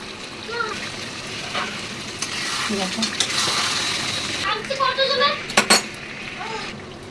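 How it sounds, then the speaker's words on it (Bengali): Mutton sizzles in a pan with ginger and garlic while being stirred for kosha, the spoon scraping and clinking against the pot in bursts over a steady frying hiss, with a voice talking at times. "আদা রসুনের গন্ধটা আস্তে আস্তে যাক, কষুক মাংসটা"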